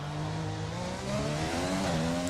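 A race car engine in a video game drones steadily, its pitch climbing as it revs up through the gears, loud and continuous with no talking.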